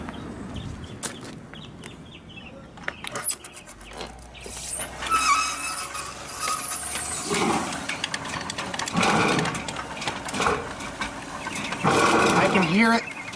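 A drain cleaning machine's blade chatters and grinds against a flat spot in old Orangeburg fiber pipe, producing uneven squeals, scraping and rattling bursts that rise louder toward the end, with a voice speaking at times.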